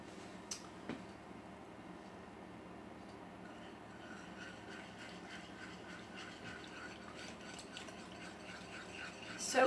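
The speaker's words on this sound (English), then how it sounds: "I'm just going to use a whisk to stir the chocolate and the cream together" A whisk stirs chocolate, cream and butter into ganache for icing cakes, making soft, continuous, rhythmic scraping and sloshing that stays faint throughout.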